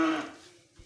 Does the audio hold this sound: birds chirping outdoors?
no